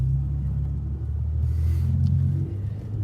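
A Ford F150 twin turbo pickup drives along, its engine giving a low, steady rumble from inside the cab with a slight swell in intensity partway through and no talk.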